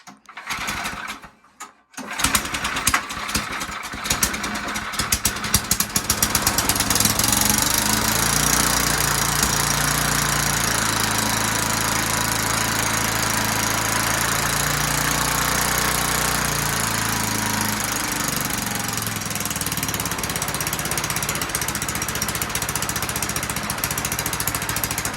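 A Northman firewood winch runs on its small engine, a steady close, loud mechanical drone with shifting throttle pitch after a brief start, continuing alone without talk.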